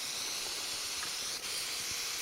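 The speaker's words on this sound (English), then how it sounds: "Now let me spray that with water." Water sprayed onto an opal rock while prospecting, a steady broadband hissing spray lasting the whole moment, close and fairly loud with no talking.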